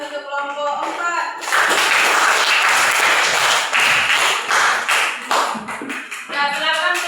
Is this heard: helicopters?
no